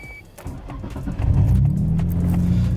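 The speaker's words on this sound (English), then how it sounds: "let's try the UniClutch in Tim's R33" A Nissan Skyline GT-R R33 fitted with a UniClutch twin-plate clutch pulls away, its engine rising into a deep, steady rumble heard from inside the cabin, with a few small clicks and rattles over it.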